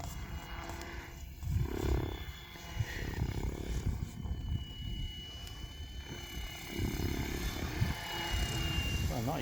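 A Tron Dnamic Pro RC helicopter flies at a low headspeed of around 1200, its rotor and motor giving a steady, moderately loud whir with slight fluctuations as it circles at a distance, with no talk.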